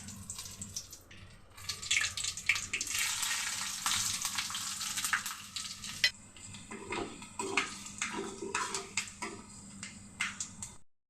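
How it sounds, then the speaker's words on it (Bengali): Whole spices (bay leaf, five-spice mix, two dried red chillies, cardamom, cinnamon, cloves and black pepper) sizzle in hot oil for tempering a vegetarian potato, lentil and chana curry, a loud, steady crackling fry with bursts of spattering and stirring. "দেব আমি এখানে তেজপাতা, 5 ফোড়ন, এখানে 2টো শুকনো লঙ্কা, এলাচ, দারচিনি, লবঙ্গ আর গোলমরিচ, এগুলি আমি একসাথেই দিয়ে দেব ফোড়নে।"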